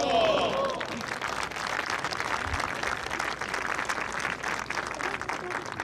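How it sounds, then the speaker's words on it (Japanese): Gallery applause at the first tee of the final round of the 2010 Japan LPGA Championship, loud clapping from an outdoor crowd under a clear sky, with voices mixed in and a sustained, even wash. "ギャラリーのナイスショットの声と、そして大きな拍手が吉野の青空に響き渡っています"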